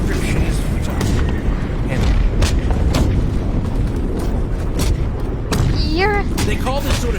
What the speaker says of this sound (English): They call this sort of shelling drum funk, and that's because the ordnance is hitting so rapidly that it sounds like a drum roll